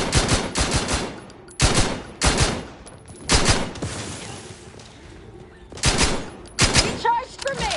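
Video game gunfire from The Outer Worlds 2 comes in loud, close bursts of rapid automatic shots separated by short pauses, with a heavy burst near the end.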